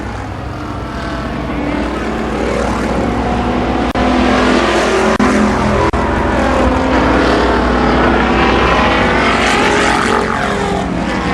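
Race cars lapping a motor speedway track at Columbus Motor Speedway in 1993 produce a loud, continuous engine roar that swells and fades slightly as cars pass through traffic, with no break throughout.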